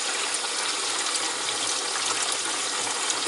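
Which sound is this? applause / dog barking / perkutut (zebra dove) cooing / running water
running water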